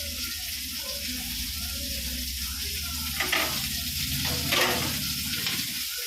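Curry leaves drop into hot oil in a pan already holding chopped raw mango for a Pulicat-style fish curry, giving a steady hiss of sizzling frying with a few louder crackling bursts and faint stirring clatter.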